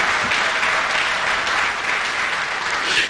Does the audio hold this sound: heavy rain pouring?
no